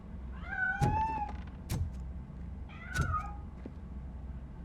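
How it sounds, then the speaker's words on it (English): A cat in the video game Robocop Rogue City meows twice, loud and close, with a few soft clicks between the meows. "That cat must be hiding inside."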